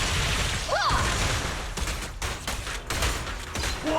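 Gunfire in the video game Zenless Zone Zero comes as rapid bursts of shots mixed with whooshes and mechanical clacks, loud and dense throughout, with brief game effect tones.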